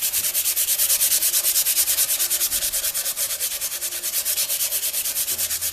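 Steady back-and-forth sanding strokes rasp across a vintage wooden drawer unit in a fast, even rhythm, close and loud for the whole stretch with no voices.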